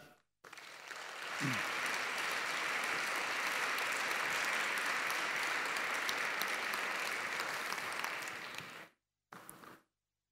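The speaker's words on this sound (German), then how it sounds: "Herzlichen Applaus bitte für Professor Götz Werner" Audience applause greets Professor Götz Werner at a re:publica 2010 talk, a dense, sustained round of clapping that swells quickly, holds steady for several seconds, then stops abruptly with a brief last burst.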